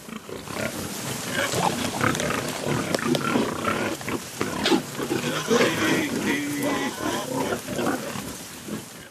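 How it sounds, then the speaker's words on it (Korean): A farmer's calling sound summons pigs on an Andalusian farm in Spain, and the pigs answer with grunts and squeals in a dense, continuous, fairly loud outdoor mix. "Es la forma de llamar al cerdo, o sea, con ese sonido él acude."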